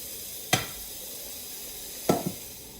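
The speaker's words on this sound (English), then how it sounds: "My pan is nice and hot, and I'm going to just dump them in." Chopped vegetables for a soup are dumped into a hot pan, giving a sharp hiss at the first drop and two more close bursts of sizzle later over a soft steady background.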